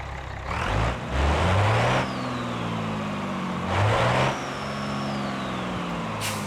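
Heard at the exhaust, a BeamNG.drive truck engine idles with a deep, throaty tone and is revved twice in surging, rising pulls that fall back to idle. A short hiss follows at the end.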